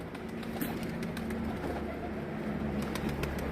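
Adana pigeons coo softly inside a coop, low repeated calls over a steady background hum, close and with no voices.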